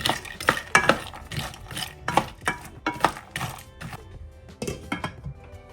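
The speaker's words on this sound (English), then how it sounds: "I'm taking the lid off and giving them a little jostling around to make sure that everything gets a good even toast" Pecans, whole cloves, star anise and cinnamon sticks shaken about in a pan as they toast, giving a series of close rattling, clattering bursts with brief pauses between, no talking.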